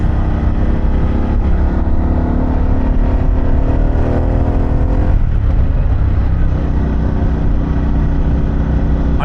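A Harley-Davidson Pan America motorcycle fitted with an Akrapovic exhaust, engine loud and close, droning steadily and pulling up through the revs with a rising tone, then easing and climbing again.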